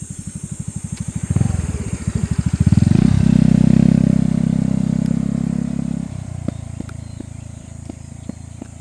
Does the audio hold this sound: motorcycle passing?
yes